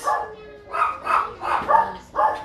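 Several dogs bark in a rapid series of sharp, close barks with yips and a whimper, filling the short stretch.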